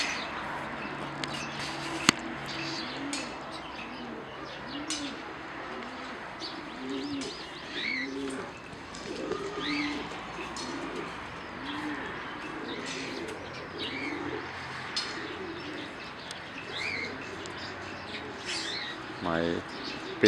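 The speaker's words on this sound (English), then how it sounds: "Hello, my little aviary birds." Pigeons coo in a steady, repeating rhythm inside a home aviary that also holds lovebirds and cockatiels, with scattered chirps and tweets layered over the cooing and a voice speaking softly at times.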